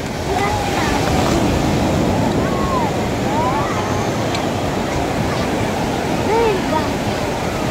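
Sea waves wash and break steadily where children are bathing, a loud continuous roar of surf with wind buffeting the microphone and faint high voices calling in the distance.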